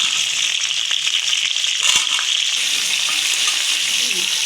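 Cauliflower frying in hot oil, a loud steady sizzle close by with a few stirring scrapes and crackles.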